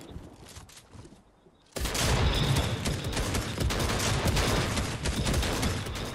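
Shotgun fire in the video game Fortnite, a dense burst of loud gunfire that erupts abruptly after a quiet stretch and keeps rattling, with rapid overlapping shots up close.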